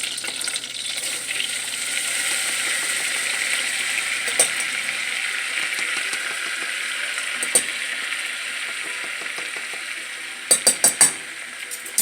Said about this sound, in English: I'm going to stir that around, kind of cook the flour for about a minute or so